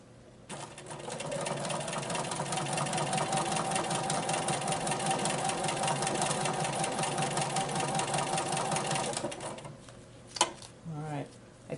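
A sit-down sewing machine runs steadily for about nine seconds during free motion quilting with ruler work, a close, even mechanical hum and rapid stitching clatter, followed by a couple of sharp clicks as it stops.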